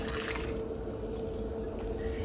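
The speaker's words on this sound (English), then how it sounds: "We're going to add our water," Water poured all at once into a bowl of flour, salt and yeast for no-knead bread dough, a steady close splashing, liquid rush that runs continuously and fairly loud.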